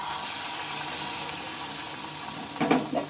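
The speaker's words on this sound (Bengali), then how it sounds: "ঠিক একইভাবে আবারও আমি তেলে দিয়ে দেবো, আর কয়েকটা ঠিক একইভাবে ভেজে নেব।" Besan-battered pointed gourd snacks fry in hot oil, a quiet steady bubbling sizzle that swells with a few sharper crackles and splashes as more pieces drop in near the end.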